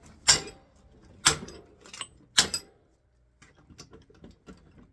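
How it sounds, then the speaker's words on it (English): Three sharp metallic hammer blows strike a bolted anvil vise mount at roughly one-second intervals, each ringing briefly, followed by faint scattered clinks and knocks. "let's hammer on it"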